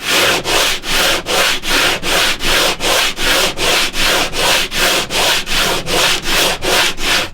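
Rhythmic back-and-forth sanding on a wooden guitar fretboard, steady strokes repeating about twice per second, close and loud with no voices.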